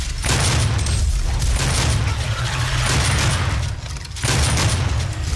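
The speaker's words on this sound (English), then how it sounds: "they just weren't counting on me having this awesome shotgun" Shotgun blasts in the video game Doom, loud repeated booming shots with mechanical reload clatter between them, dense and continuous with a short lull near the end.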